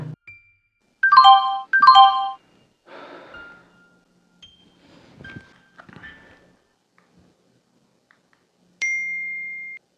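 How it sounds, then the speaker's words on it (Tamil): An Instagram voice message alert plays as two bright, chiming notification tones in quick succession, followed by soft rustling and small movement sounds in a quiet room, then a single clear ding. "இன்ஸ்டாவில் வாய்ஸ் மெசேஜ் வந்திருக்கு"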